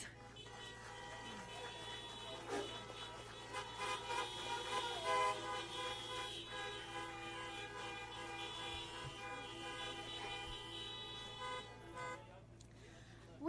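Many car horns honk together in an overlapping, sustained chorus at a Veterans Day luncheon event, some long blasts and short toots, with traffic rumble underneath.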